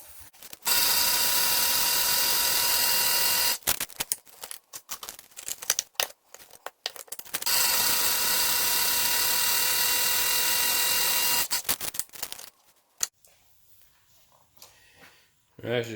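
A loud, high-pitched motorized whir of a kitchen food chopper chopping bar soap runs in long bursts, stopping and starting with rattling clatter between runs.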